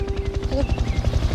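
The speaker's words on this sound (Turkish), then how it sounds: "Helikopter." A helicopter's rotor thumps in a steady rapid pulse, fairly close and loud, near a lake, with a brief voice rising over it partway through.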